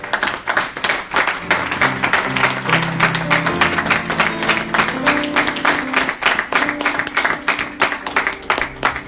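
Church congregation applauding and cheering during a French-language sermon, a dense sustained wash of clapping hands with musical tones underneath, loud and continuous throughout.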